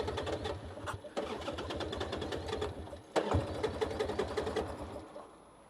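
A motorcycle engine in hot weather cranks repeatedly without catching, a fast mechanical chatter in rapid bursts broken by brief pauses, close and fairly loud with no talking.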